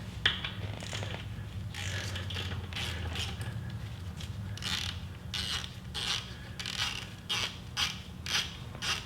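A 3/8 hex socket on a ratchet loosening the transmission drain plug of a Harley-Davidson Touring motorcycle, a steady run of close, crisp ratchet clicks in quick bursts over a low background hum.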